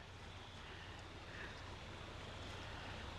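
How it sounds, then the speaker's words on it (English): A small running creek at a wooded camp spot gives a steady, dense wash of rushing water across the whole span. It stays even and continuous with no voices, and a faint wind rumble mixes in. "Little running creek"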